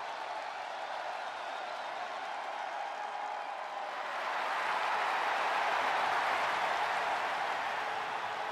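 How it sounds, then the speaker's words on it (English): Crowd ovation in the WWE 2K23 wrestling video game: a steady wash of arena applause and cheering that swells noticeably louder halfway through and then holds at that level. "Listen to this ovation. The WWE Universe loves cheering on the EST."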